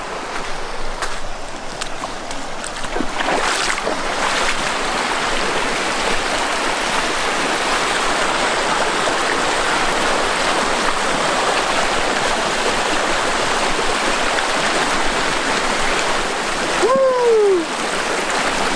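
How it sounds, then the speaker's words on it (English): River rapids rush steadily in the Superstition Wilderness, a broad, continuous roar of flowing water that stays loud and close from start to end. "In the rapids."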